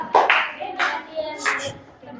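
Students in a secondary-school classroom give a short round of hand claps in a few uneven bursts, fairly quiet and close, with scattered voices around them.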